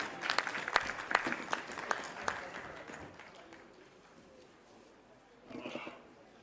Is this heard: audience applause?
yes